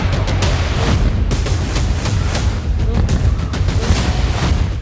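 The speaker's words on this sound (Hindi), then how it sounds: "सिलसिलेवार बम धमाके" Serial bomb blasts from a war-news report on Israeli strikes in Yemen, a loud rapid string of booming explosions one after another with no pause.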